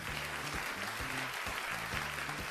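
Studio audience applause on a game show, a continuous wash of many hands clapping at moderate distance, with a voice speaking underneath.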